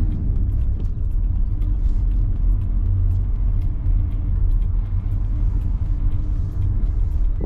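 A learner driver's car pulls gently away from the kerb, its engine a steady low rumble close by with a soft, even hum and no talking.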